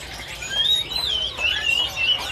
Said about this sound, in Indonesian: Burung langka ini